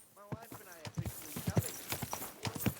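Hooves of a horse in the video game Kingdom Come: Deliverance II clop in quick uneven beats, close and mid-loud, while someone talks over them almost throughout.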